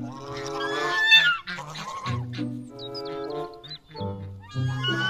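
Loud, nasal honks from a goose repeat in irregular bursts nearby, with several overlapping calls and no speech.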